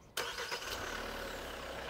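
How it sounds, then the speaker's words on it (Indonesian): A Hyundai Staria van's engine starts by remote from the key fob, with a sharp crank catch and then a smooth, fairly quiet idle hum that holds steady, close by and without talk. "bisa nyalain mesinnya dari kunci"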